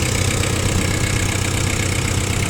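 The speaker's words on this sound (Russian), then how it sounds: "Работает трактор ровно, достаточно хорошо." A rear-wheel-drive Japanese tractor engine with power steering runs steadily at idle, a loud, even low rumble with a regular throbbing beat and no talking.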